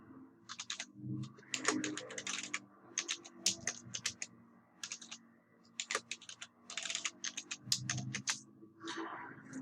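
Close computer keyboard typing in quick, uneven bursts of crisp key clicks with short pauses as a password is entered while setting up a Hyper-V Server as a domain controller.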